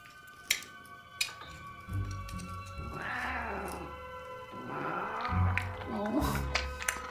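A hungry cat meows and yowls repeatedly in drawn-out cries, close by, with a low hum and a few sharp clicks underneath and no talking over it.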